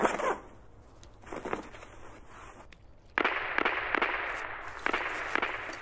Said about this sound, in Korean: 아직도 총소리가 나네.